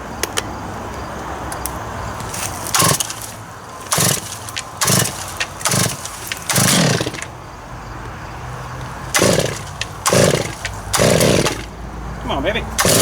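A chainsaw fitted with a big bar cuts wood, its engine surging in repeated loud revving bursts over a steady running idle, up close.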